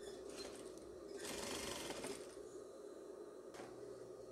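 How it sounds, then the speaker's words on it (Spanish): A sewing machine stitches a dress strap with a steady, faint, continuous mechanical whir, briefly louder in the middle. "Vamos a coserlo cuidadosamente."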